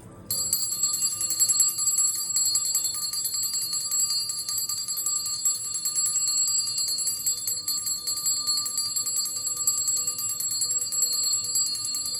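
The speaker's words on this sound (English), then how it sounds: "I'm gonna ring the bell" A bell rings out during a spiritual reading, its bright sustained tone holding steady and fairly loud over a quiet room, with a faint low hum underneath and no talk.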